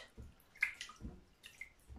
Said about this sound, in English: It dripped